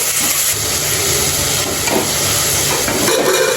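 Masala stirred as it fries in a pan for homemade green chicken biryani, a steady loud sizzle and hiss with scraping stir strokes throughout, no voices.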